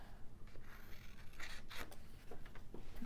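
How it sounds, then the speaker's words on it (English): Scissors snip the corners off sheets of paper for a quick handmade Christmas mini album, giving a few short, close crisp cuts and rustles at low volume. "take your scissors and cut the corners out"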